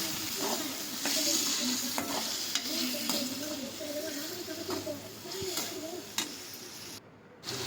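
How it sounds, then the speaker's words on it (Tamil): Chopped tomatoes frying in a pan for tomato egg rice, stirred with a spoon: a continuous close sizzle with periodic scraping and tapping strokes against the pan. "இப்போ நம்ம கட் பண்ணி வச்ச தக்காளியை உள்ளே போட்டுடலாம். இப்போ நம்ம நல்லா கிளறி விட்டுக்கலாம்."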